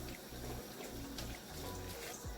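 Soaked Sela basmati rice slides into a pot of boiling water with a soft, wet pouring and bubbling rush, close and continuous, peaking briefly toward the end.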